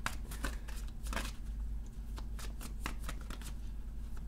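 Tarot cards are shuffled and handled during a reading, with a quick run of crisp riffling and flicking bursts close to the mic over a steady low hum. A voice murmurs faintly now and then.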